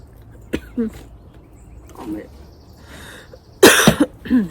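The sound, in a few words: cough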